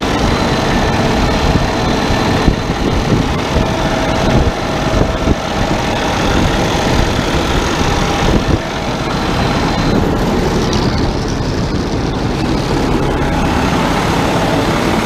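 A Cummins ISX15 diesel truck engine idles after a reman VGT turbo install, with a loud steady rumble close by and slight surging, running alone without talk.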